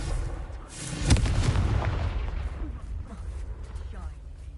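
Confringo fire spell explosion in Hogwarts Legacy on PS5, a sudden heavy boom about a second in with a rumbling, crackling tail that slowly fades, a voice speaking over it.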